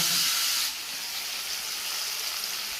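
Paneer frying in hot oil in a wok, giving a steady, close hiss and sizzle that is loudest for the first moment and then settles to an even, softer crackle with no voices.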